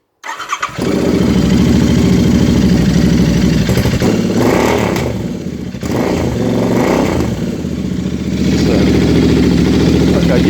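A Royal Enfield 650 Interceptor twin fitted with a DNA performance air filter starts up and settles into a steady, loud idle that runs close and continuous, with slight dips in level and no talk over it.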